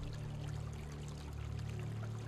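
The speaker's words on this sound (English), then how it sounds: "Now, you may hear some water running." Running water in a fantasy adventure game gives a continuous pouring, streaming wash that stays even and fairly close throughout, with no talking.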